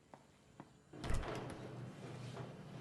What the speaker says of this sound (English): Vera, please close the door.